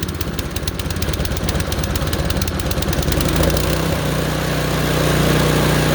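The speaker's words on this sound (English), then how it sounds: "Now it's running a little rough, so I'm going to take the choke and I'm going to move it until it runs smooth." A Craftsman snowblower engine runs steadily and loudly close by, its rough, uneven chugging settling into a smoother, steadier drone partway through as the choke is moved.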